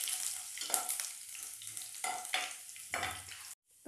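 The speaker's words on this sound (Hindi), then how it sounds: "तो लहसुन और कड़े मसाले को सेक लेंगे।" Garlic and whole spices, including black cardamom, fry in hot oil with bursts of sizzling and crackle as they are stirred, moderately loud and close, ending in a brief silence.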